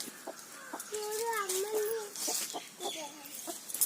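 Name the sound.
chick clucking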